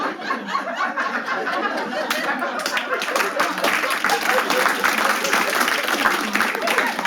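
Applause from a stand-up comedy audience, close and lively clapping mixed with scattered chuckles and laughter that carries on steadily throughout.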